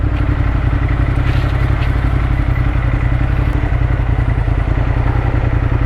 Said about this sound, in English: The sound and the vibration of the bike makes it seem like I'm going faster than what I really am.